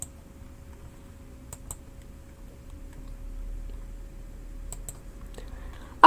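A computer mouse gives a few sparse, sharp clicks, singly and in quick pairs, while a library name is edited in a software tool. Long quiet stretches sit between them, with faint soft taps near the end.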